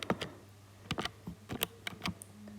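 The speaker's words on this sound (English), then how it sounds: "So I'll type that into the calculator now." Buttons on a calculator keypad are pressed in quick, irregular taps while entering an exponential and logarithm equation, close and fairly quiet against a faint steady hum.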